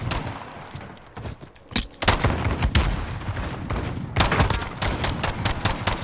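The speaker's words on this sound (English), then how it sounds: "I hit him like three times with a pistol" Pistol and other gunfire rattles through a Modern Warfare gunfight match as sharp, close reports, scattered shots at first, then dense rapid volleys that keep going.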